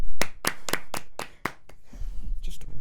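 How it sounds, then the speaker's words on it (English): Brief round of applause for an Arsenal footballer during a podcast, about six sharp, loud claps in quick rhythm followed by quieter rustling and murmuring. "let's give him a round of applause just for that"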